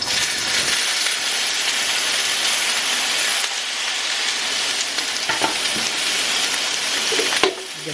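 An ingredient dropped into a hot pan gives a steady, close sizzle that holds the whole time, with a sharp knock near the end.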